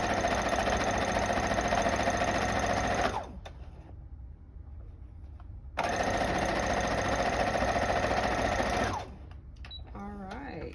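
Sewing machine back stitching on a quilt block: two loud steady bursts of rapid stitching, each a few seconds long, broken by a quiet pause, then brief handling noises at the end.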